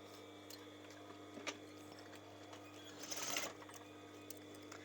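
A domestic sewing machine runs steadily, stitching a sleeve seam of a baseball top along the overlocking, with a brief louder burst of fast stitching midway and a low motor hum throughout.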